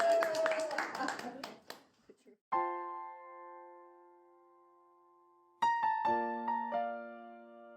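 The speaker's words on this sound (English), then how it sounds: "We're actually clapping." A few people clapping in a radio studio during a talk show, a short burst of close hand claps that fades out within about two seconds, followed by a musical tone.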